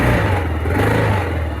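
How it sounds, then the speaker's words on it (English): A Kawasaki 650 USMC M1030 single-cylinder thumper motorcycle with an old-style choke idles at about 1600 RPM, a loud, close, steady low rumble with no talking. "it's idling at about 1600 RPM"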